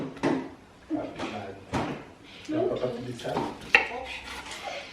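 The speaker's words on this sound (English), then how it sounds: "I'm in the kitchen about to cook some food" Dishes, pots and utensils knocked and shuffled around a home kitchen, a run of separate clattering clanks and scrapes with one sharper metallic clink near the end, close by, under a little background talk.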